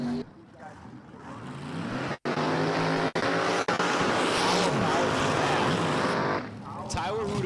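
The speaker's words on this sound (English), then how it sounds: "I'm going to give it a second for these guys to do their burnouts." Top dragsters doing burnouts at Empire Dragway, a loud, continuous roar of engines with dense crackle and a few abrupt cuts, one engine revving higher near the end.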